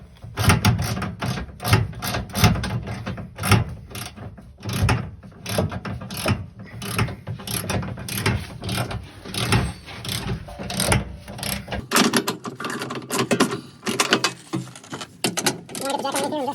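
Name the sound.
bolts being tightened with a ratchet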